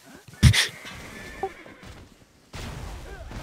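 A horse in the video game Black Desert Online lets out a loud, short whinny early on, followed by softer in-game ambience and a brief scuffle.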